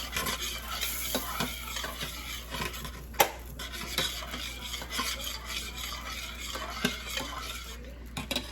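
Mixed vegetables are stirred in a sizzling pan: a constant frying hiss with repeated scraping and clinking of a utensil against the pan, one sharper knock standing out.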